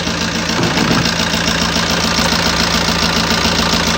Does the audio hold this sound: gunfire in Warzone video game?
no